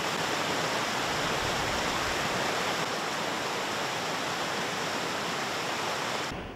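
Sopotnica waterfall roars in a steady, dense rush of falling water, loud and close, unbroken for the whole stretch before cutting off abruptly at the end.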